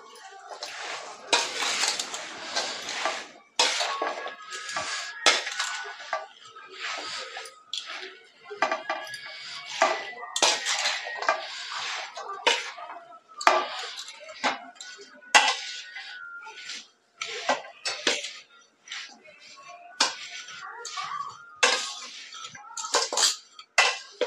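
A spoon works ground pickle masala around a bowl, giving irregular clinks and scrapes of metal on the dish in bursts, with pauses between strokes, fairly close and moderately loud.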